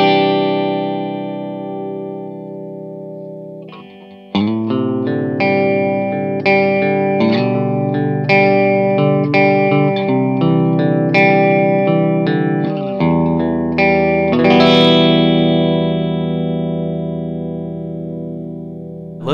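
Electric guitar on its neck single-coil pickup through an Agape Tribute 18 amp, ringing chords and single notes in a steady clean-to-lightly-driven tone with a touch of echo and shimmer, played alone with no talking.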